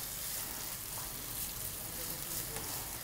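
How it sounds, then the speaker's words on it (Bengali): A cup of chopped onion frying in a pan, giving a soft, steady sizzle with a faint crackle, heard close but quiet and without pause. "দেখো, পেঁয়াজটা ভাজা হচ্ছে"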